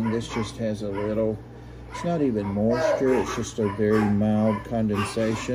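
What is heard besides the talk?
dogs barking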